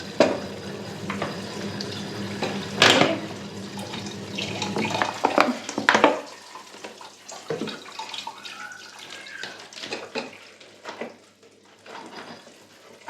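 A large pile of dishes is washed under a running kitchen tap, with steady splashing water, clinks and knocks of plates and pots, and sharp scrapes against the sink, close and fairly loud.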